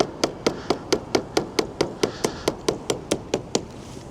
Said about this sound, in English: I have to like literally use a hammer to hammer it into the snow.